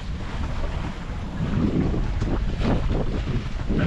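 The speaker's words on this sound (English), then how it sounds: "we've got the motor off and the sails up. Really pretty light wind." Sailboat under sail in light wind with the motor off, off Guadeloupe: a steady broadband rush of wind over the microphone and water against the hull, rising slightly midway, with no voices.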